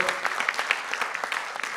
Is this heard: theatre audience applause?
yes